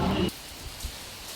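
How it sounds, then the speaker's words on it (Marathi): Rain falls on a village, a soft continuous patter with a louder rustling burst at the start, then steady and fairly quiet throughout. "आणि काय पाऊस पडतोय हे बघा."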